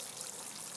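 Water pours steadily onto compost to soak a garden plant, a close, continuous splashing rush with no breaks, heard alone without talk.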